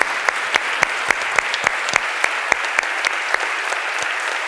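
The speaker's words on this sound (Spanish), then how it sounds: "un fuerte aplauso." A lecture audience claps together in dense, steady applause, with a few louder individual claps standing out sharply from the close crowd sound.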